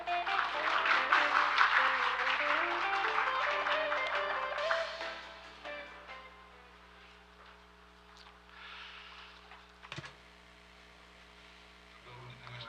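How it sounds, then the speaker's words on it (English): Applause for a speaker being welcomed at an international conference on public finance, a dense broadband clatter for about five seconds that fades into quiet room tone with a steady low mains hum. "Let's give him a big round of applause."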